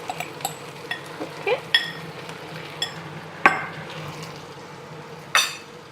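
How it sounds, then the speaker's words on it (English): Stir-fried Hokkien noodles with sauce being tossed in a pan, with scattered metallic scrapes and clinks of a utensil against the pan over a faint steady sizzle, fairly close and quiet. "Just stir it again."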